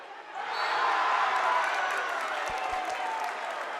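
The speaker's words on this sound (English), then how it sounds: "Crowd is rocking in the early going." A crowd at a high school boys basketball game between Durfee and Somerset-Berkley cheers and applauds in a loud, sustained roar, with a few dull thumps partway through.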